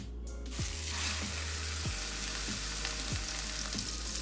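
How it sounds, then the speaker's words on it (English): Burgers frying in a pan over medium-high heat give a loud, steady sizzle with crackling spatter, broken by a few soft low thumps at regular intervals, close up and without talk. "you want to cook the burgers in that pan too. Get that sucker up to medium-high heat"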